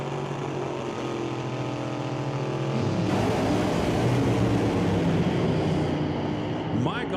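Top Alcohol dragsters at an NHRA drag strip leave the starting line, a deep droning idle swelling into a loud, rough blast of engine roar around the midpoint, with a track announcer talking over it.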